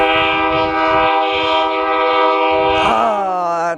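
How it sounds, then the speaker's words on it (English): A train passes very close and loud, its horn blaring a steady, rich chord over rumbling wheels. Near the end the horn bends downward in pitch. "There it is. The 4th train today."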